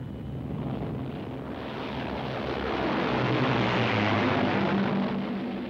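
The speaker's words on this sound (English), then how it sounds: "a flight of planes was just taking off here" A flight of propeller planes takes off, a broad steady engine roar that swells gradually and holds at a loud, sustained level with wind-like rush and no voices.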